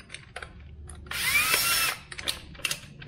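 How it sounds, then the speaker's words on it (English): A power drill whirs loudly for under a second, drilling into a Subaru WRX cylinder head, surrounded by a few short clicks and taps of handling before and after. "Then I'm gonna drill it straight."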